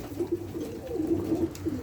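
Pigeons coo in a low, repeated, throaty rhythm at close range, several soft calls overlapping steadily through the stretch with faint background noise and no voices.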